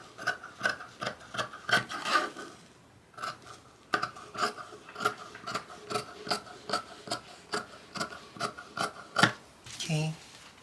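Scissors snip through corset fabric in a steady run of crisp, close cuts, each a short rasping crunch repeating every half second or so, with a brief pause partway and a little rustle at the end.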